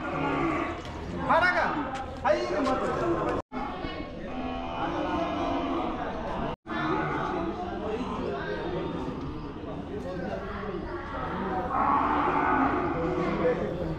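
Cattle and calves low and moo repeatedly amid a busy crowd at a large outdoor livestock market in Kodad, Telangana, with many voices chattering and animals shuffling nearby.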